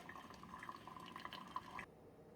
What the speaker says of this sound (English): It brewed that 8 cups of water.